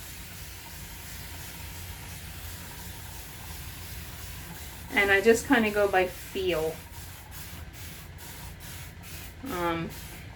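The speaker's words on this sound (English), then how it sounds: "I'm just going to go ahead and spray." Several quick bursts from a spray bottle misting naturally curly gray hair hiss close by in a cluster, then one more spritz after a pause; a voice speaks briefly earlier.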